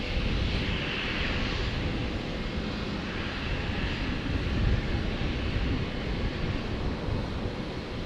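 Jetstar Airbus A320 airliner just after pushback at Brisbane Airport, heard as a steady, fairly distant broadband engine rumble and hiss that stays even throughout with some wind noise.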